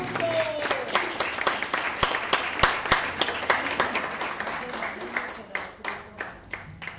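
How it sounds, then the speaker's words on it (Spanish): Applause from a church congregation, clearly separate claps that start dense and thin toward the end into a looser, rhythmic patter, moderately loud and heard alone. "Un aplauso al Señor."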